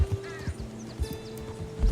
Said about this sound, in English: I'm letting the AI control the horse